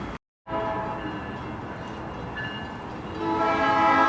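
A passing train rumbles steadily at close range, then its horn sounds in a sustained loud blast toward the end, with no talking over it.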